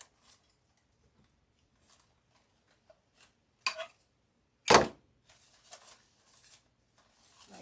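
Scissors snip material for a spring butterfly wall basket in a quiet room. A few soft cuts are followed by two sharper, louder snips close by, then light rustling.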